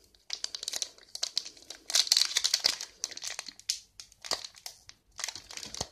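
A Pokémon XY Evolutions booster pack wrapper crinkles and crumples close up in bursts of crisp plastic rustling, loud and alone with brief pauses between handlings.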